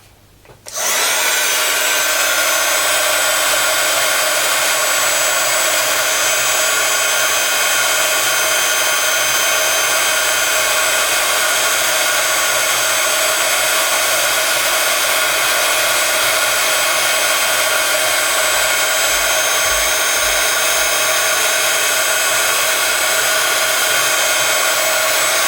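Heat embossing tool switched on and blowing hot air over a white embossed print, a loud, steady fan whir with a high whine that holds unbroken for over twenty seconds.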